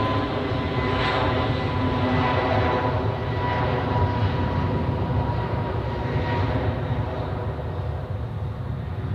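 A Qatar Airways Airbus A350 from Doha rumbles at Zurich Airport with a steady, broad, loud jet roar that holds for the whole stretch, and no voices are heard over it.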